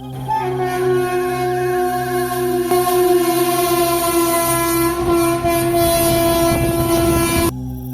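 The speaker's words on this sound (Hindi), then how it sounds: "दूर कहीं से आती ट्रेन के हॉर्न की तेज आवाज उस सन्नाटे को चीर" A loud, sustained train horn from a railway station blasts almost continuously over the rumble and clatter of the train, cutting off abruptly near the end.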